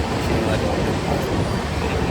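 A crowded passenger train running towards Kannur railway station gives a steady, dense rumble with broadband rattle throughout, close and continuous, with faint background murmur from passengers.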